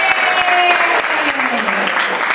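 Student audience clapping at a school talk show in a Denpasar high school hall, a short burst of applause with a voice calling out over it.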